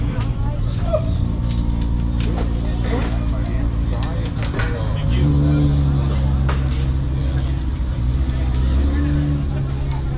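Cars roll slowly out of a Japantown car show parking lot, their engines humming and rumbling nearby in a steady, continuous drone, with one engine swelling louder partway through.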